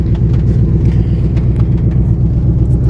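A Ford F250 truck engine idles steadily after a fuel pump install, a loud, close, continuous low rumble with a faint pulsing beat and no voices.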